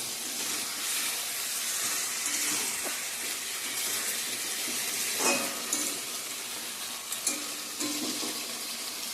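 Meat sautéing in a pan on the stove, a steady close sizzle and hiss with occasional stirring scrapes and small spits, no voices.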